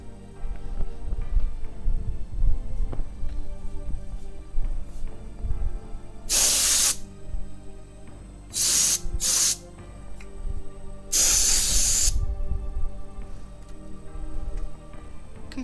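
Compressed air sprays in several short, sharp hissing bursts to clean a computer, loud bursts separated by pauses over a quieter background hum with faint ticking.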